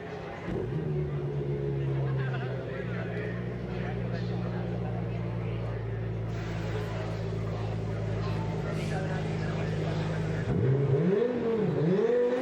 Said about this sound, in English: Engines will fire, and then out they will go for a further 20 minutes.